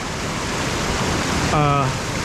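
Steady, full rushing of high river water through boulder-strewn rapids at Cucumber Rapids near Ohiopyle, where Cucumber Run pours in, with a brief tonal sound near the end.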